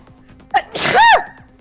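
A single loud sneeze, a short sharp intake followed by an explosive burst, close to the microphone with quiet background around it.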